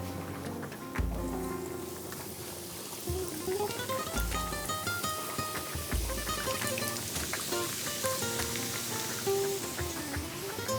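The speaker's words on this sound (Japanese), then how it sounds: "じゃあ揚げていきますか。 さあ170から180度の揚げ油で" Herb-coated pork fillet deep-frying in oil at 170 to 180 degrees, a steady dense sizzle and crackle of bubbling fat with a few dull knocks underneath, close and continuous.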